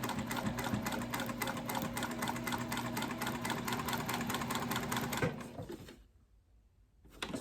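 A sewing machine stitching a zipper box on a tall wallet, running in a fast steady rhythm for about five seconds before stopping, then a brief quiet pause.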